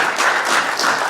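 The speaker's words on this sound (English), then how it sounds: "just give her applause for just even being up there" An audience at a talk applauds a speaker in a brief, dense burst of clapping, loud and close, with no voices over it.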